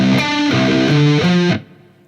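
A short, loud riff on a distorted electric guitar in C tuning, the ending flurry of a longer riff, with quick stepped notes and a final ring that cuts off into near silence.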